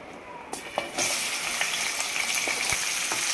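Two large onions frying in plenty of oil for a prawn tomato masala curry, a steady bright hiss that swells after a brief quieter start, with a few faint clicks of stirring and no talk.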